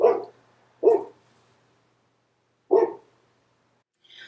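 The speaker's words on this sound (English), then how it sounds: "Oakley was barking like a madman outside, so I had to bring him in." A dog barks outdoors in three separate bursts spaced irregularly apart, fairly close and clear, with silence between the barks and no talking.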